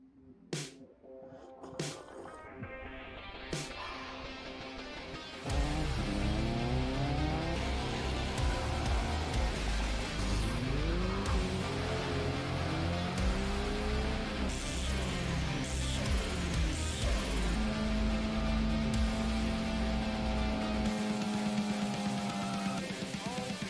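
A 1998 Mazda MX-5 with a 1.6 engine runs steadily after a few sharp knocks, a loud, close drone with shifting engine tones for most of the stretch, no speech.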